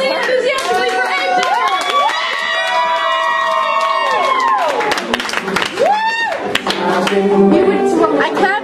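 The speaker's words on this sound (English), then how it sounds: "Ladies and gentlemen, clap loudly and enthusiastically for Abe" At a literary poetry slam, a crowd applauds loudly and enthusiastically, with excited whoops and cheers rising over continuous clapping that carries on throughout.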